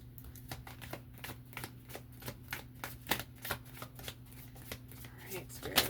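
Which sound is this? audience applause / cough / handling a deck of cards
handling a deck of cards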